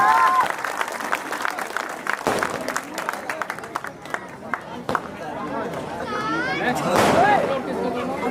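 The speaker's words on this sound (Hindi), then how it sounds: "तालियां होनी चाहिए।" Dense crowd clapping at a BSP political rally in Udaipur, where a candidate is honoured with a turban, runs steadily throughout under a loud amplified announcer's voice and scattered cheers.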